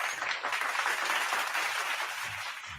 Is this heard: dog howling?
no